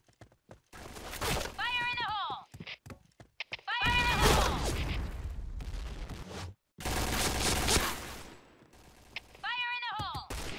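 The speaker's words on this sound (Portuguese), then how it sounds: "eu vou dar um tiro de Python nesse cara aqui" Shots from a Python revolver in a video game come as several loud, sharp bursts separated by brief silences, mixed with game effects including horse whinnies.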